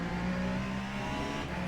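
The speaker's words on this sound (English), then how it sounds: "I hate the noise of these cars." A race car engine in the Le Mans Ultimate racing game, at the Bahrain circuit, drones loud and steady at high revs, heard from onboard for a brief moment without talk.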